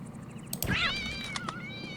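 A cat in the Postal 2 video game lets out a single clear, rising meow, close and fairly loud over quiet background noise.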